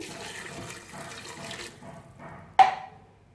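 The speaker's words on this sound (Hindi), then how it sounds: "अब साथ ही हम 1 गिलास पानी शामिल करेंगे।" A glass of water poured into a cooking pot of tomato and ginger paste for mutton kofta curry, a steady splashing pour that tapers off, followed by a short clatter near the end.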